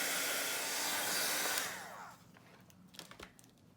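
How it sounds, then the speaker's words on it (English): A heat embossing gun blows hot air in a steady, close hiss that cuts off after about two seconds, followed by a few faint crinkling handling sounds. "You do want to use a heat embossing gun for this"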